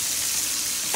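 Onions hit a hot frying pan during home cooking, giving a loud, steady broadband sizzle that carries through the whole moment and swells slightly at the end, with no voices.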